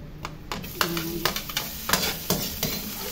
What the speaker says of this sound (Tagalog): gisa-gisa ko lang yan ng bawang, luya, sibuyas at kamatis